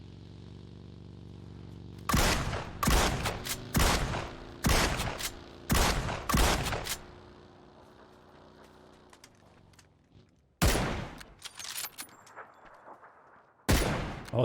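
Heavy DBS shotgun blasts in the video game PUBG boom out in a burst of about six loud, evenly spaced shots, then, after a quiet stretch, two more blasts follow, all sharp and close.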